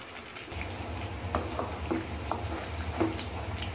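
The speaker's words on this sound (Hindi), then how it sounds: "तो मसाले को हम भुनने देंगे।" Spice masala sizzles steadily in a pan, a constant close frying hiss with a few soft clinks of stirring over it, and no talking.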